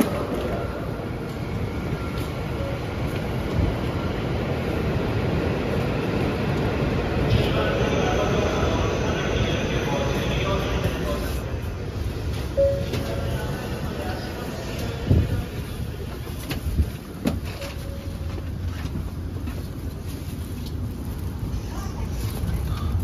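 A Joetsu Shinkansen train on the Niigata-to-Tokyo line rolls into the platform with a continuous low rumble and rush of wind, while a station announcement and other voices sound over it.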